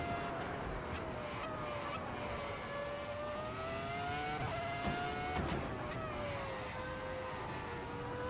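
A 2004 Formula One car on the Nuremberg circuit in the Assetto Corsa racing game, a high shrieking engine whose pitch rises and falls through gear changes, with throttle lifts and a brief rasp near the middle.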